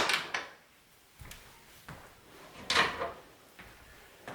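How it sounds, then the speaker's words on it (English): Deadbolts on a Murphy bed cabinet are slid open, giving a few separate wooden clacks and sliding knocks spaced out over a quiet room, with no talk. "You're going to undo these deadbolts."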